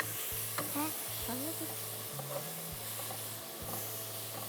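Spice paste for beef rezala frying quietly in a pan, a faint steady sizzle with a few stirring scrapes, partly under a low hum that steps in pitch from time to time.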